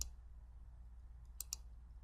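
A computer mouse gives a few faint, sharp clicks, a pair close together near the end and one at the start, over a quiet background hum.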